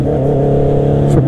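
A Honda CB650R motorcycle engine hums loud and close at a steady pitch while being ridden, with a slight rise in revs near the end.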